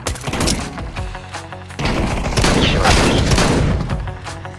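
Loud, close gunfire bursts from a Counter-Strike match, with rapid rifle volleys and heavy thumping shots that come in dense, overlapping strings almost without pause.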